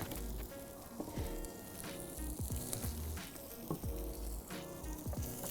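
Garlic fries in very hot ghee with curry leaves and chili, a close, steady sizzle and crackle with scattered pops and spatters throughout, no voices.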